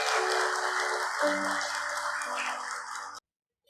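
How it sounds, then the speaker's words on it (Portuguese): Church congregation applauding at the close of a sermon, a steady wash of clapping with a faint sustained musical tone beneath it that cuts off abruptly near the end. "E você que crê, diga amém, Jesus, e aplauda o Senhor."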